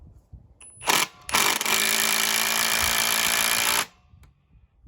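An impact driver sinking a screw in a power test: a short burst, a brief pause, then one loud sustained hammering whir lasting a few seconds before it stops abruptly, heard close and alone.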